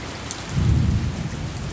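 Heavy monsoon rain pours steadily while a deep roll of thunder swells in the middle and fades, with no voices.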